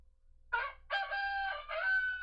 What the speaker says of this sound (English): Oh, the rooster.